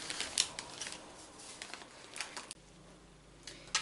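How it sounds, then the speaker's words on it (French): Baking paper peeled carefully off a chilled chocolate mint cake, giving soft crinkling and crisp tearing rustles in short bursts, close and quiet, with no talking. "On enlève délicatement le papier."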